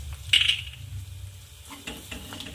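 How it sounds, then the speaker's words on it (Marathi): A spoon stirs turmeric into potato curry in a pan, soft scraping and a brief metallic clink near the start, then quiet low frying and light stirring sounds. "छान असं मिक्स करून घ्यायचं आहे"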